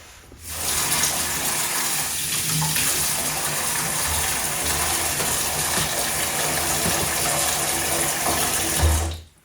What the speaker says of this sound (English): then we'll get that water turned back on